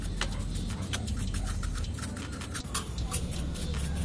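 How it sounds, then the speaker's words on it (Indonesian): A brush scrubs dirt off the outer gear oil housing of a Honda Scoopy scooter. It makes a steady, close scratchy swishing with quick repeated strokes and no voices. "Kita bisa kuas saja ya. Kita bersihkan sisi luarnya ya."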